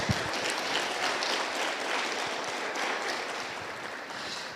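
Church congregation applauding during a Spanish-language sermon on grace, a steady dense wash of many hands clapping that stays fairly loud and even throughout, with no voices over it.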